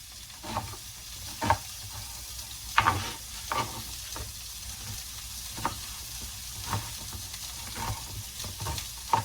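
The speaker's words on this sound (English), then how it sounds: "celery in the skillet, some onion in there" Celery and onion sauté in a skillet for a soup, a soft continuous sizzle broken by regular scraping stirs and occasional utensil knocks, fairly quiet and close.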